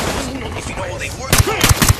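Loud gunshot bursts in a firefight during an ambush in the video game Ghost Recon Wildlands, several sharp shots coming in the second half after background talk and noise.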